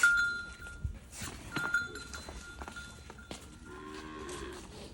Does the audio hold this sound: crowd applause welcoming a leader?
no